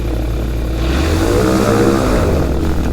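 A microlight aircraft flies with its propeller engine running as a loud, continuous droning buzz close by, its pitch shifting slightly mid-flight.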